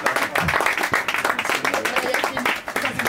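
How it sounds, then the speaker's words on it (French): A boxing event crowd applauds two fighters after their bout, dense clapping mixed with crowd noise while an announcer speaks over it. "Donc on peut les applaudir bien fort,"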